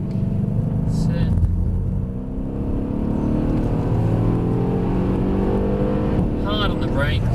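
A Mercedes-Benz AMG car drives around a race track toward a chicane, its engine droning loudly and steadily as the driver adds power, with an instructor's voice coaching over the noise.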